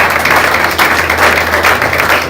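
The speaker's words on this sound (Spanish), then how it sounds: "den un aplauso a Dios por Él." A church congregation bursts into loud, dense applause for a man accepting the Lord. The clapping is sustained and close, with crowd noise mixed in.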